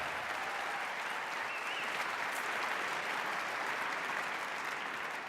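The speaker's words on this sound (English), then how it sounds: "Let's give another round of applause for it." An audience at a Martin Luther King Jr. tribute celebration gives a sustained round of applause, with even, continuous clapping from a large crowd throughout and no speech over it.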